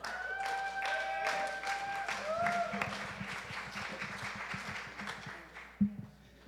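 Congregation applause at a youth church service, a moderate round of clapping that swells and then tapers off, with tonal sounds and a few louder knocks mixed in before it fades.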